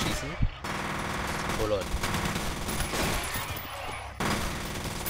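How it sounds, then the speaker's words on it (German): Rapid automatic gunfire in the shooter game F.E.A.R. rattles in dense bursts with brief gaps, loud and close, while someone speaks briefly over it. "Irgendwie voll zeitverzögert das Schießen."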